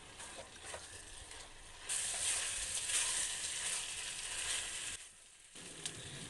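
Taro and potatoes frying together in hot oil, stirred in a pan, a close steady sizzle that swells sharply after a couple of seconds, then dips briefly before resuming.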